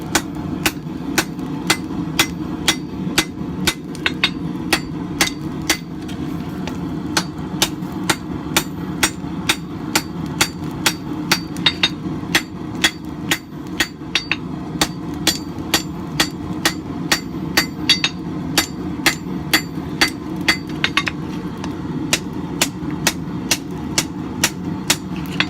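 Steady, rhythmic hammer blows ring out on an anvil as the point of a coil spring knife is forged, loud and close, a long even series of sharp metallic strikes with no talk.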